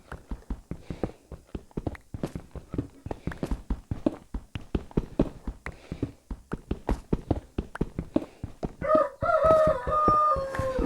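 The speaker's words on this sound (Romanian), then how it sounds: "acum a început cocoșii mei să cânte" Roosters crow in the Minecraft video game over a dense run of rapid clicking and tapping, with a loud, tonal crow rising clearly near the end.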